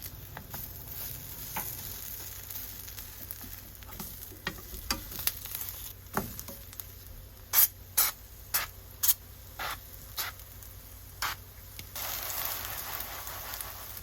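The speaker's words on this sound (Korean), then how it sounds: "이제 앞뒤로 노릇하게 구워주기만 하면 돼요" Oatmeal kimchi pancake batter frying in an oiled pan, a close, steady sizzle punctuated by sharp crackles and pops, heard on its own.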